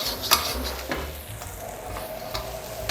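Shrimp are stir-fried in a hot pan for nasi goreng, giving a steady close sizzle broken by a few sharp scraping and clanking strokes of the utensil against the pan.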